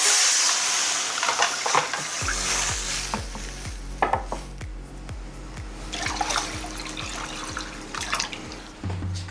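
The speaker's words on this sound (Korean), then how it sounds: "이제 여기다가 물을 부어줄게요." Water is poured into a pot for fish cake noodle broth, a splashing rush of liquid over a steady background, with a series of evenly spaced low thuds or clanks through the middle.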